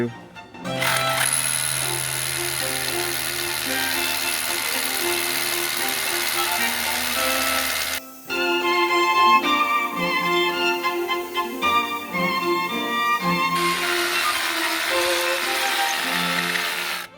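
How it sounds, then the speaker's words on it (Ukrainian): A Bosch GBH 185 LI cordless rotary hammer bores into a reinforced concrete block, hitting rebar, with a loud continuous mechanical whir, a short pause, and then more drilling at varying pitch, with no voices. "сверлив цим буром десь там попав трішки на арматуру"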